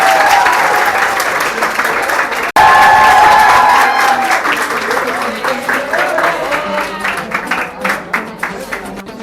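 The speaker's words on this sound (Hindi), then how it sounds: "कॉस्ट ऑफ चॉइस के लिए जोरदार तालियां हो जाए" A crowd at a school prize distribution applauds loudly for several seconds, briefly cutting off, then resuming and gradually thinning into scattered individual claps.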